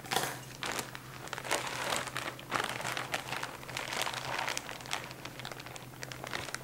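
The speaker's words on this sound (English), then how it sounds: "I'll cut open the package of mozzarella cheese." Plastic packaging of mozzarella cheese crinkles and rustles continuously as it is cut open in a home kitchen, close and moderately loud, with no speech.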